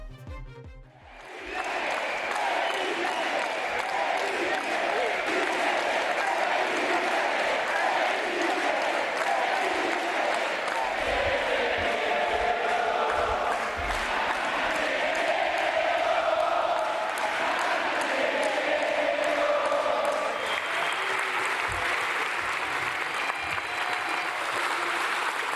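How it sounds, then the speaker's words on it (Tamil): Supporters of Argentine President Javier Milei clap and cheer in a large room, sustained loud applause with shouts rising through it that carries on steadily from start to finish. "அவரது கட்சியினர் கைகளை தட்டி ஆரவாரம் செய்து மகிழ்ந்தனர்"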